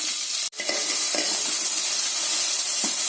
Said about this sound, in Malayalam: ഉള്ളികൾ വറുത്ത് അതും വറക്കുന്നു